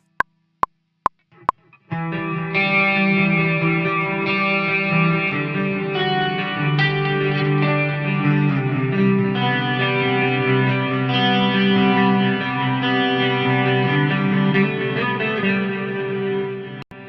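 Electric guitar double-tracked through a Qi Etherealizer lo-fi effects pedal, a few sharp plucks then a sustained wash of layered chords with warbling chorus and distortion, steady and full throughout, no talking.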